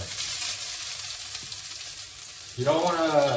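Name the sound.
garlic frying in oil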